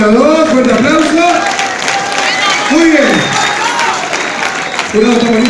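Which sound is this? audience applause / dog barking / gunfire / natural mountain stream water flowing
audience applause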